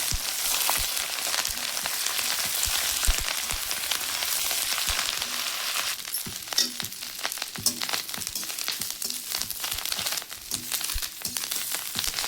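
Masala frying in a pan, a steady dense sizzle with crackling pops throughout, close and continuous with stirring scrapes and no talk.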